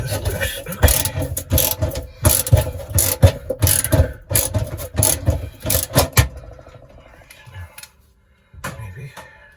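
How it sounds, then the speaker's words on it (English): Ratchet wrench working loose a stove element, rapid bursts of metallic clicking repeated for about six seconds at close range, then fading to sparse faint clatter. "go back to the ratchet thing to get this loose"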